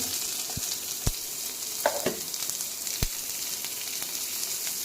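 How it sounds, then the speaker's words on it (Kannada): Chopped onion sizzles in hot oil with chana dal, a steady close frying hiss broken by a few sharp clicks and scrapes of stirring. "ಕಡಲೆಬೇಳೆ ಆಲ್ಮೋಸ್ಟ್ ಫ್ರೈ ಆಗಿದೆ ಈಗ ಈರುಳ್ಳಿ ಹಾಕ್ಕೊಳ್ಳಿ"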